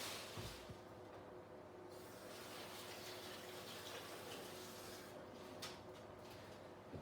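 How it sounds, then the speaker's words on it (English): Tap water runs steadily as hands are washed under it in a home kitchen, a faint, even gush with a few brief clatters, no talk. "So I'm just going to wash my hands."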